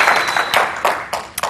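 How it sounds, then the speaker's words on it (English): Audience clapping at a church service in Salt Lake City, a few close, loud bursts of hand claps in uneven rhythm over a brief moment. "let's clap for that"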